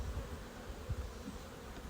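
Honey bees buzz during a hive inspection, a faint continuous drone close by with no voices.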